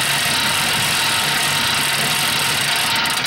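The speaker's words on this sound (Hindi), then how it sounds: "ये तो नामुमकिन है, ये साइकिल बहुत शोर करती है, टीवी सुनाई नहीं दे रही।" A noisy old exercise bike in a Peppa Pig cartoon gives off a loud, continuous mechanical whirring drone that holds steady throughout with no voices.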